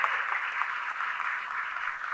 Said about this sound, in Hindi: जोरदार ताली बजनी थी, इतनी हल्की ताली बजाओगे तो भाई